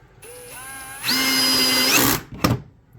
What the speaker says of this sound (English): we'll go ahead and get these screwed in. These are the self-boring screws